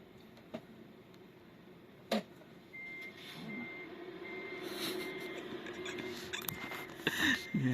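A vehicle reverses at low volume, with faint, steady reversing beeps. Scattered light thumps and rustles sit over a quiet background, and no one speaks.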